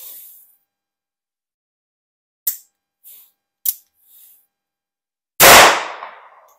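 Beretta 950BS Minx pistol firing .22 short rounds at a shooting range: a few sharp, light snaps spaced apart, then one loud crack with a brief tail, with silence between.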